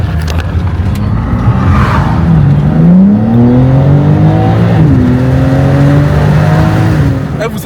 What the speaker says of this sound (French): Regarde la soupape que je vais mettre au départ.